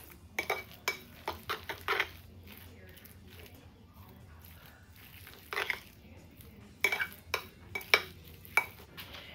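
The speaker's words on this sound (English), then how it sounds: "stir all these ingredients together until they're well incorporated" Deviled egg filling with pickle relish being stirred in a bowl, utensil clinking against the dish in short clustered bursts, with quieter pauses between strokes; no talking.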